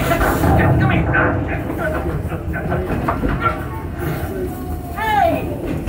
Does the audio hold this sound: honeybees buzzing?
no